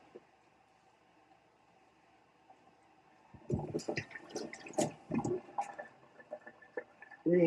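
Water splashes onto a freshly shaved head, at first quiet room hum and then a run of wet slapping and squishing bursts close to the mic, ending in a louder splash.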